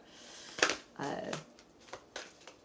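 A thick combined tarot deck being shuffled by hand, with a sharp riffle snap followed by a longer burst of card shuffling and a few lighter flicks of cards afterward, close to the microphone.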